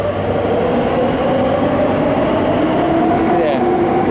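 A metro train rumbling through an underground station that connects to regional and national rail, a loud, steady low roar with a rising whine as it moves, while people talk over it.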